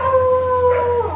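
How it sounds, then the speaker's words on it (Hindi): A street dog lets out a single long, loud howl close by, holding a steady pitch before it wavers and breaks off at the end. "उस गली में इतने कुत्ते हैं"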